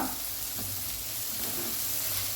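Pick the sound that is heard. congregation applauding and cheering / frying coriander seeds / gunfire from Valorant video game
frying coriander seeds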